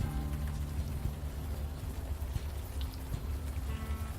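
Rain falls in the video game Unavowed as a steady, dense hiss over a low ambient hum, continuous and even throughout with no voices.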